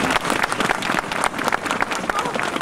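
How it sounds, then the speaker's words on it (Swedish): Loud, dense applause from a crowd at an OKG 50th anniversary event in 2015, an even roar of many hands clapping with some voices mixed in underneath. "Jag tycker alla ska ge en extra applåd till Elin."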